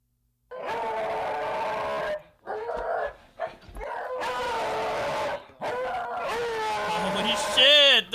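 Dogs bark wildly inside a video game, a rapid run of loud yaps, yips and whimpers in several bursts with short gaps, ending in a higher howling whine.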